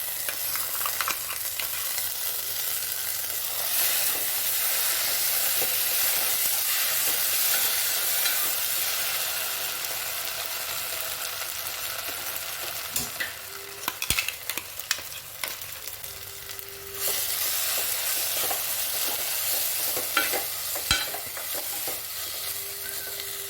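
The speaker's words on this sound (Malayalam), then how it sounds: "ഇതിനെ നല്ലപോലെ ഇതിനകത്തിലിട്ടൊന്ന് വരട്ടിയെടുക്കാം." Chili paste frying in oil for chicken roast, a dense continuous sizzle running throughout with intermittent stirring scrapes and a few soft knocks, close by, with no voices.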